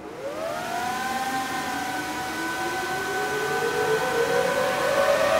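Supermicro SuperBlade server packed with NVIDIA H100 GPUs spinning up, its fans rising in a steady, loud whine that climbs in pitch over several seconds, with no talking.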